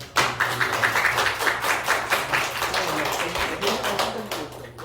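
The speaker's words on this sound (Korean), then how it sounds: "우리 환영의 박수로" Welcoming applause from a church congregation at a revival seminar, a dense, steady patter of many hands clapping close by, sustained for several seconds with little talk over it.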